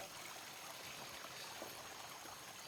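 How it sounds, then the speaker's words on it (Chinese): A rainforest stream flows steadily with a dense, even rush of water. No voices break through the constant close wash. "有小溪了。"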